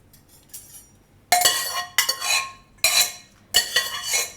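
Cooked corn and drumstick pieces are transferred into a vessel, with several distinct clinks and scrapes of metal utensils against pots coming in close, irregular bursts.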